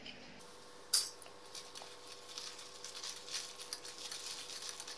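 A spoon clinks against a glass while stirring a grape mojito topped with chilled Sprite, one sharp tap followed by soft repeated clinks and faint fizzing, quiet and close.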